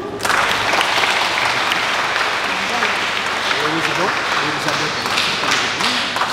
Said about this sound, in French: On applaudit au moins?